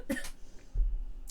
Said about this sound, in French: Je tousse toujours, hein, c'est un plaisir.